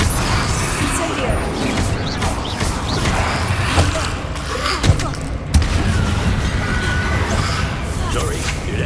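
Hogwarts Legacy combat with the Incendio fire spell cast repeatedly: dense, roaring bursts and whooshes mixed with clatter and impacts, a steady loud wash with a few sharper hits near the middle.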